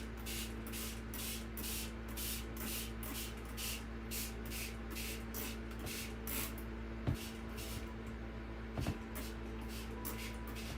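Coffee sprayed onto junk journal paper in a run of about twenty quick, rhythmic spray-bottle hisses, close and fairly quiet over a low steady hum, with a couple of small knocks near the end.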